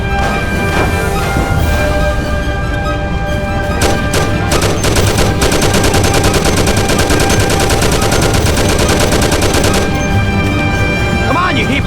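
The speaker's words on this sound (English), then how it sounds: "Take my Thompson. You and Sam shoot them." Sustained rapid bursts of Thompson submachine gun fire from the 1930s gangster game Mafia rattle loudly and densely for several seconds, backed by a constant engine rumble.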